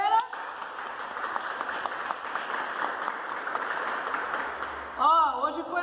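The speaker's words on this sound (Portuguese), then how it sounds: "Palmas para a capoeira!" Applause from a capoeira class, a dense continuous patter of clapping that holds steady for several seconds, then a voice briefly cuts in near the end.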